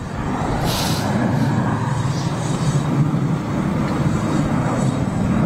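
A loud, steady roar of a jet airplane passing low overhead as it lands at Schiphol Airport, rumbling continuously with a broad hiss on top.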